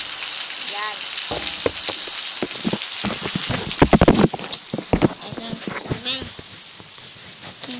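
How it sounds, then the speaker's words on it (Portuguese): Steady rain falls and patters outside a window, a dense hiss with scattered drips and splashes, while people talk over it in the foreground. "Tá chovendo, eu tô aqui na janela."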